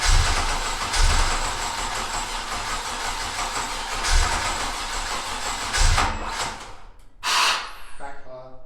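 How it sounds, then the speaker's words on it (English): Sharp backfire pops from an LS1 V8 swapped into a Mazda Miata MX5 NC, loud bursts over a steady idling rumble, with people talking nearby. "Backfire."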